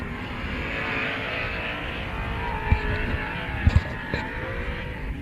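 Pro 2 off-road race trucks with 900-plus-horsepower two-wheel-drive engines racing at Glen Helen Raceway, a steady roaring engine drone at middle distance with a few sharp knocks and thuds.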